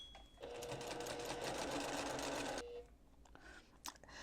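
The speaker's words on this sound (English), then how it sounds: "I'm going to take it to the sewing machine, and I'm going to sew it a scant 1/4 of an inch away from the edge" A sewing machine stitches pleats into place on fabric, a scant quarter inch from the edge, for an advent calendar. It whirs in one loud, steady burst of about two seconds, then stops, followed by a few small clicks.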